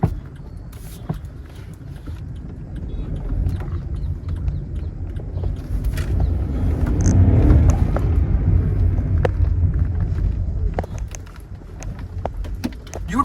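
A Volkswagen Polo GT TSI makes a U-turn, heard from inside as a steady engine and road rumble that swells briefly midway, then eases again.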